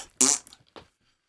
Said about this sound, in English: I have better fart sound, though.